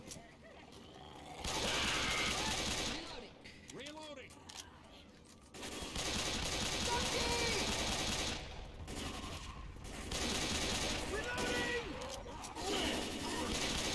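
Rapid bursts of gunfire from the zombie shooter Left 4 Dead on the Crash Course map rattle in long loud stretches broken by short lulls, with voices talking in between and under the shots.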